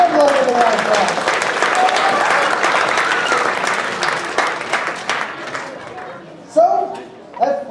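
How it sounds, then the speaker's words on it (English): An audience at a university chemistry demonstration night gives a loud round of applause with some cheering, fading after several seconds as a presenter's voice returns. "Give me a round of applause."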